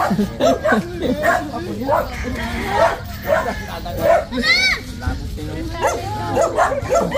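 Several short dog barks and yips come through over a steady low background, with people talking intermittently throughout.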